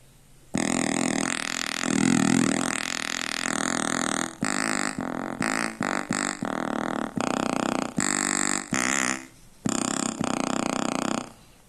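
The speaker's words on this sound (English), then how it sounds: "Now pulse wave." A synthesizer pulse wave plays nasal, raspy tones, beginning with a long held note that sweeps in pitch, then breaking into a rapid series of short clipped stabs of varying pitch.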